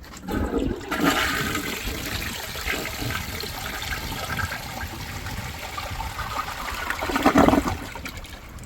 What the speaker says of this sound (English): let's put this toilet together and see its first flush